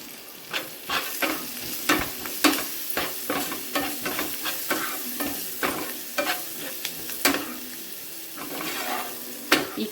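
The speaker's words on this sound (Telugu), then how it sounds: "ఈ తాలింపు మంచిగా ఫ్రై అయిపోయింది." Kandi kattu tempering (talimpu) with added turmeric frying in a pan, stirred in a steady rhythm of scraping strokes over a soft continuous sizzle, close and moderately loud with no talking.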